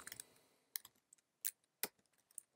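Quick clicks of a computer keyboard as a MySQL command is typed into a terminal window, close, crisp and sparse, in short bursts with small gaps, quiet room, no talking.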